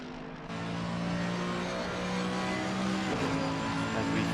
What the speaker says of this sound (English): As we start to see the first cars coming across this line for their first valid laps